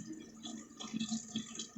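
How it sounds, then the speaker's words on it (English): A faucet runs during medical hand washing at a sink, a steady soft stream of water with light splashing and dripping, close and fairly quiet, with no talking. "Now we're going to turn on our faucet, adjusting the force of the water, ensuring that it does not create any splashes"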